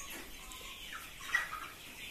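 Broiler chickens cluck in a poultry barn housing a thousand meat birds, a faint, continuous flock murmur with scattered soft calls and no talk.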